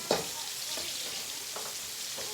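Chicken pieces frying in a pot for Jamaican bar-be-fry chicken, a soft continuous sizzle with a few scraping stirs and clinks breaking through at intervals.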